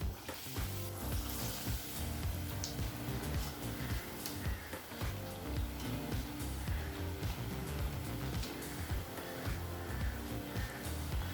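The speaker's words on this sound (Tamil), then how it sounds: "அவை எண்ணெயில் போட்டு பொரிக்க ஆரம்பிச்சிடலாம்." Mysore bonda batter frying in hot oil in a home kitchen, a steady dense sizzle and bubbling that carries on unbroken at moderate level with no talk.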